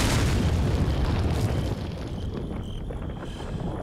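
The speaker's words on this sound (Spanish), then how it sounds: "A ver qué pasa con la explosión." A heavy, rumbling explosion in the video game Resident Evil 4 booms out, then its roar thins into a softer, lingering wash of noise with faint electronic tones.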